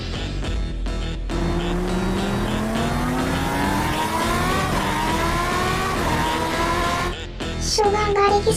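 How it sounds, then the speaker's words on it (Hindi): A car engine revs and climbs steadily in pitch as it speeds up during a race, loud and continuous for several seconds before a sudden shift near the end. "गाड़ी की स्पीड बढ़ा क्यों रहे हो?"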